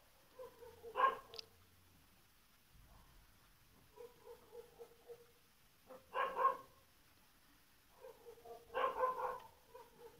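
Dogs bark outside at night in three short bursts of several barks each, fairly distant and moderately loud, separated by quiet gaps.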